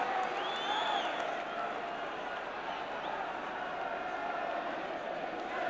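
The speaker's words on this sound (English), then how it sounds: "this home crowd getting behind Chelsea like the good old days" A home crowd at a Chelsea football match keeps up a steady, broad roar of cheering and shouting throughout, dense and continuous, with occasional whistles rising above the din.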